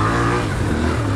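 An adventure motorcycle's engine revs up close, a short, loud, throaty burst with a low, pulsing tone and no talking over it.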